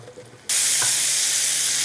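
Carrots and onions dropped into hot bacon grease for a BBQ stew, a quiet moment followed by a sudden loud, sustained sizzle that keeps hissing steadily.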